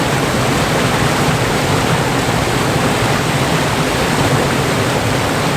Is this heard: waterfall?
yes